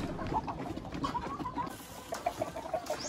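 Black Australorp chickens in a breeding pen cluck softly, giving low murmuring calls in short bursts over faint barnyard background.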